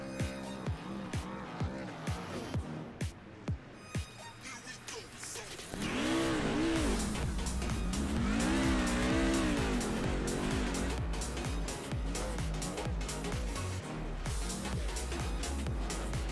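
Race trucks spin donuts at Richmond Raceway in a truck-racing video game, starting with sharp, rapid revving bursts, then giving way to a loud, sustained wavering tire squeal and engine roar that runs to the end.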